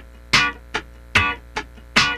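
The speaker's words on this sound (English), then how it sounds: "It's a downstroke." Funk rhythm guitar plays downstrokes on the downbeat, five sharp percussive strums in a steady pattern, alternating bright full hits with shorter, lighter ones, heard alone and close.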